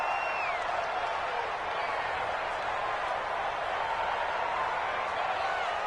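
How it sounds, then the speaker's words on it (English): Stadium crowd in a football video game roaring in a broad, steady wash of cheering and applause, heard under continuous play-by-play commentary. "the crowd getting into it"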